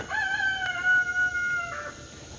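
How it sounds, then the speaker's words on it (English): A rooster in a home garden lets out one long, loud, drawn-out crow that dominates the clip and trails off, with faint chicken clucks underneath and no talking. "I'm going to get these chickens inside"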